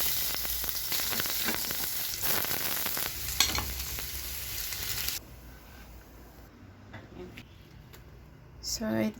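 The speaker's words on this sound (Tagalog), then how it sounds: "So, dito na tayo magpiprito." Sausage frying in a pan, with a steady, fairly loud sizzle for about five seconds that then drops to a faint hiss, and a brief clatter near the end.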